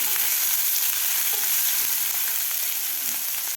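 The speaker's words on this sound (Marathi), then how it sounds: "त्यानंतर घालायचा आपल्याला कांदा कांदासुद्धा आपल्याला एक मिनिटभर परतून घ्यायचा आहे" Onion sautéing in a pan for a dhaba-style peas and spinach curry, a steady, loud, close sizzle of frying that continues unbroken until it cuts off at the end.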